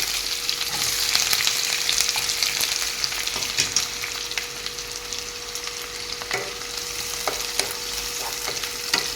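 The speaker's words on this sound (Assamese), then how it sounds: "তেলখিনি ধুনীয়াকৈ গৰম হৈছে। ইয়াতে এতিয়া পিঁয়াজখিনি দি দিম।" Chopped onions sizzle and crackle steadily in hot oil in a kadai, a continuous bright frying hiss with occasional sharper pops and stirring clicks, close and alone without talk.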